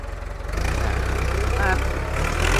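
An old imported Ford 6640 farm tractor runs with a steady low engine rumble that grows louder after half a second and holds near and strong, with a voice talking over it.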